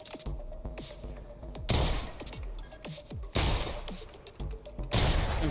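Automated turret in the sci-fi shooter Selaco firing bursts of gunfire at the player, rapid close shots in several volleys with loud heavy impacts between them.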